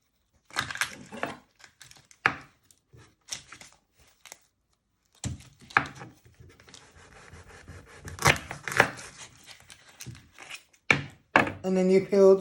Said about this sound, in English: you want to peel the 2 layers of skin off your onion